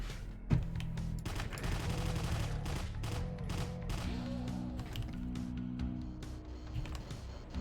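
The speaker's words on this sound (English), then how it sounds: "Sniping chain gunners, hooray." Chaingunner enemies in the video game Doom (Plutonia) fire in rapid, continuous bursts of gunfire, loud and dense, layered over game music and sound effects throughout.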